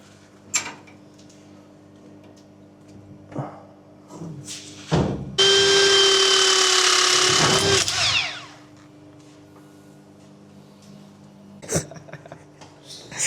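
Tool work on a 2000A three-phase electrical panel terminated with 185mm² cable: scattered metallic clicks and knocks, then a loud sustained whirring burst of a power tool for about three seconds, followed by more sparse clanks.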